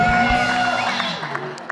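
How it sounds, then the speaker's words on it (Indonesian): A TV morning-show studio audience, Pagi Pagi Ambyar, cheers and whoops steadily, with a busy crowd roar and shouted voices, close and fairly loud, fading slightly toward the end. "Beri tepuk tangan yang meriah buat Rita Hararit."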